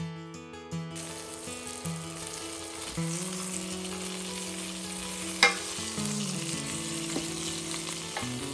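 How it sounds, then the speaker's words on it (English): Sausages cut in half frying in a little oil in a pan, a steady soft sizzle running throughout, quiet and close, with a low tonal hum in the background and a brief clatter midway. "Add a little bit of oil and then start frying sausages."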